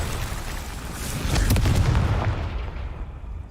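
A Confringo spell explosion in the video game Hogwarts Legacy, a loud booming blast that swells and rumbles before fading out.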